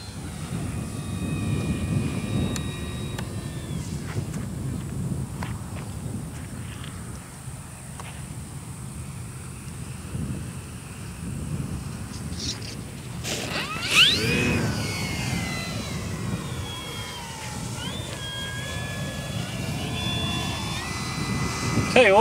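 An E-flite DRACO 2.0m RC airplane flies outdoors in gusty crosswind, its electric motor a faint, wavering whine that rises into a closer whooshing pass midway, under steady wind noise.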